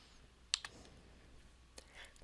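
A computer mouse clicks sharply twice in quick succession, close and distinct, followed by a fainter tick a moment later against quiet room tone.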